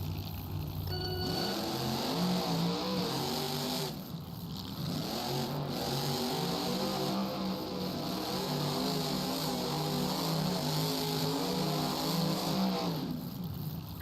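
Grave Digger and other monster trucks race in an indoor arena in Nashville. Their engines roar and rev continuously with rising and falling pitch, dipping briefly before surging again close and loud.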